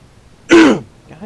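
A single harsh throat-clearing cough close to the mic, a short rough burst followed by a faint trailing breath, alone.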